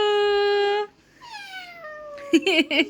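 A voice imitating a cat, drawing out two long meows, followed by brief giggly vocal sounds.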